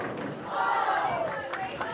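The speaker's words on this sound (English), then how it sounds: "Standing room only crowd here at Classic Lanes." A standing-room crowd cheers and shouts at a college bowling match at Classic Lanes, a loud sustained roar of many voices over two seconds.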